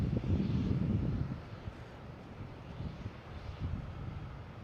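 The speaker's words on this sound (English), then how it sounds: "next taking off is a Delta heading to San Diego, an A321 Neo, flight 571" A Delta Airbus A321neo jet taking off at Boston Logan International Airport, a steady broad engine roar with wind noise, loudest at the start and then settling to a sustained rumble.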